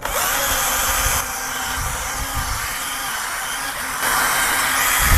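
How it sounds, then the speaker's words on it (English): A power drill whirs steadily at low speed, buffing a boat's fibreglass gelcoat, a continuous buffing hum with a slight hiss, close by and unbroken. "the buff or the drill is set at a slow speed, so we're not ripping off of our gel coat"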